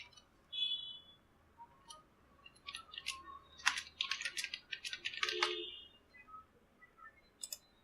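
Clicky typing on a computer keyboard, scattered taps at first and then a quicker cluster of keystrokes in the middle, fairly close and quiet with no voices.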